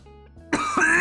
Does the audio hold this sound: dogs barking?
no